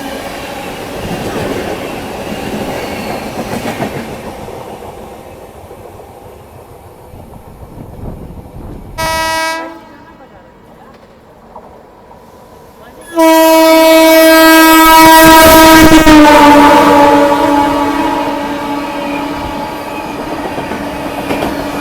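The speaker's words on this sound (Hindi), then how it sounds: "दूसरा ओवरटेक प्रयागराज एक्सप्रेस से, वीआईपी ट्रेन प्रयागराज एक्सप्रेस।" The Prayagraj Express rushes past during an overtake, its rolling rumble broken by a short horn blast and then a long, loud horn that sounds for several seconds as the train passes close by.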